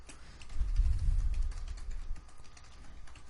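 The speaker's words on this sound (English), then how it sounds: "And again, there's a lot of typing here." Clicks of typing on a computer keyboard, quiet and close, with a soft low thump in the first seconds before the keystrokes continue faintly and unevenly.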